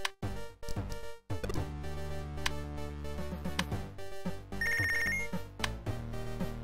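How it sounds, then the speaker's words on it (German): A telephone rings repeatedly in the Punch Club video game, bright electronic tones layered over game music, loud and close with no one talking. "Telefon."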